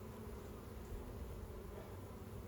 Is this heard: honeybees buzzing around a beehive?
yes